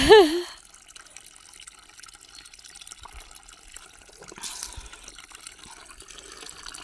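Cold highland spring water flows and trickles steadily at a mountain plateau roadside, a soft, even wash of running water after a brief voice at the start.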